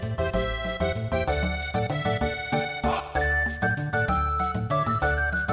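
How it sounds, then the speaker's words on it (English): Leene's bell in Leene Square from the retro game Chrono Trigger, a bright, loud chiming melody that rings continuously with layered tones, with no talking. "Legend has it that people who hear Leany's bell live happily ever after"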